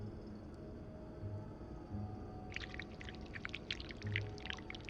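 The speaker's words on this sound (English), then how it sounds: "we need to pour the wax from the pot" Molten wax poured from a pot in the video game This Bed We Made: after a quiet start with low room hum, a burst of splashy, gurgling pours runs through the second half, close and moderately loud.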